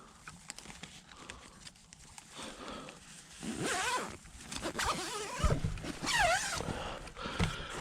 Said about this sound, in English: So I'm going to zip that bad boy up.